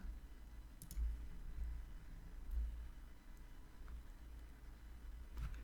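A computer mouse gives a few soft, isolated clicks spaced seconds apart, close but faint, over a quiet low hum with no talking.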